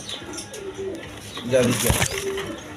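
Kaldom pigeons coo nearby, a few soft low throaty calls with a brief flutter of wings, while someone talks over them.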